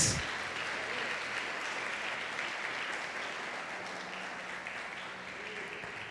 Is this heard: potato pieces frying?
no